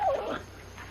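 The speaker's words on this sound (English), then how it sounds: "If you ain't the beatin'est dang dog I ever seen." A dog gives a short, thin whimper outdoors on a ranch, a brief high whine that fades under faint background noise.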